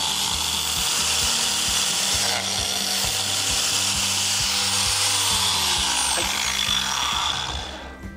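A biscuit joiner cutting a slot near the edge of a wooden board, giving a steady loud whirring grind with rough rasping texture that runs for several seconds and winds down at the end.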